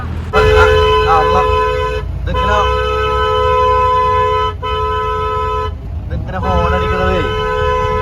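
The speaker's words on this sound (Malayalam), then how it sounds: "ഓപ്പോസിറ്റ് വണ്ടി വന്ന ഒരു ഇങ്ങനെ നിർത്താതെ ഹോൺ അടിക്കുന്നതിന്റെ പ്രധാന കാരണം" An oncoming vehicle's horn honks repeatedly in long blasts with brief gaps on a road near Munnar, loud and close over a running jeep engine, with no talking.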